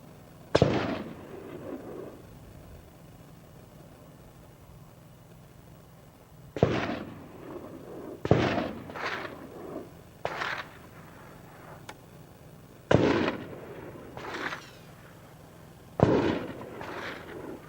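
Gunshots fired nearby by people with guns during hurricane preparation, a handful of sharp loud cracks arriving singly and in quick clusters, each trailing a short echo, separated by quiet stretches.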